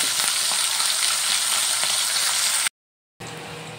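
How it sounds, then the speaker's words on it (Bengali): Small mourala fish rubbed with salt and turmeric sizzle steadily in hot oil in a kadai while being turned, a loud, dense frying hiss that drops out briefly before resuming. "এবার আমি মাছগুলো একটু উল্টে পাল্টে ভেজে নেব।"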